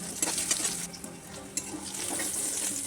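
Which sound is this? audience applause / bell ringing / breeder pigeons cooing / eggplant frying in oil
eggplant frying in oil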